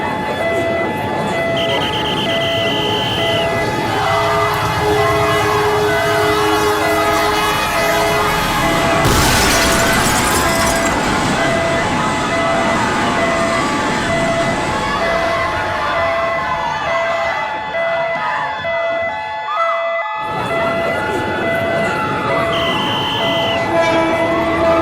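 A train rumbles loudly through a railway level crossing where traffic is jammed and a car is stuck on the tracks. Continuous warning tones wail over it, and the sound cuts off abruptly near the end before resuming.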